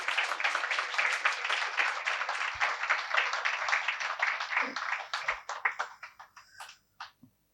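An audience claps warmly for a group of Balvihar children visiting from a temple at a satsang gathering, with dense sustained applause that thins into scattered claps and fades out near the end.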